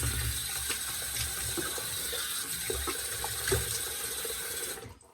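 Cold water runs from a tap in a continuous close splashing stream, steady and fairly loud, then cuts off at the very end.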